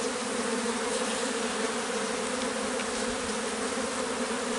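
A dense, continuous buzz of honeybees swarming around an open hive during a queen introduction, loud and close, steady throughout with no talking.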